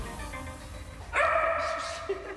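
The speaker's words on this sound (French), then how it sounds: "Promener son chien" A dog gives a short bark or yelp, close and fairly loud, against a busy street background during a morning walk in Lyon.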